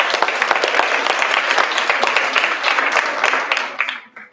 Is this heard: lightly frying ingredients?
no